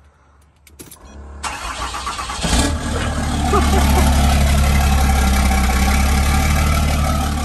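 A truck engine cranks and catches about a second in, then settles into a loud, steady, close-up idle with a continuous low rumble; a voice speaks briefly near the start.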